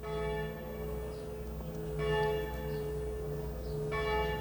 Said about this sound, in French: on laisse les cloches.